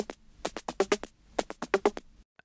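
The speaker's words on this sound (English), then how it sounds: "Lastly we have this techno loop" Techno percussion loop with tight punchy hits in a steady driving pattern, repeating twice at a moderate level and ending with a brief isolated tick.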